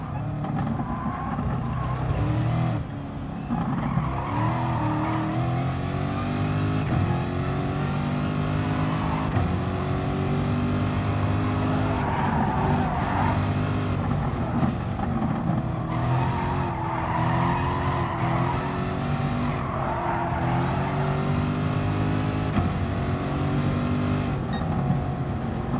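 Race cars in Gran Turismo Sport roar through the final lap of a fuel-mileage race, engines revving up and down continuously with brief tire squeal and skidding, loud and steady throughout with no talking.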